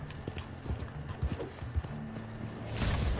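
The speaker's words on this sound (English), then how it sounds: "the horse keeps running away?" Horse hooves clip-clop in the Red Dead Online video game, a run of uneven close hoofbeats with a faint whinny, swelling into a louder rushing burst at the end.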